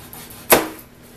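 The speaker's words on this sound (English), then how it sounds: "So for garlic, chop off the root end." A single crisp knife chop through the root end of a garlic bulb on a cutting board, one short sharp hit in an otherwise quiet kitchen.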